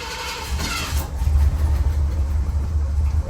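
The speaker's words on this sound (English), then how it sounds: "So this is the first cold crank." Cold crank of a 1979 Cadillac Coupe Deville engine, a steady low rumble of cranking and catching that holds close and loud throughout, with no talk over it.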